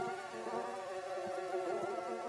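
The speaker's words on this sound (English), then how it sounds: "There's an army of mosquitoes out there." Mosquitoes buzzing in an animated educational cartoon: a dense, continuous whining drone of several insects, steady and fairly loud throughout, with no talking.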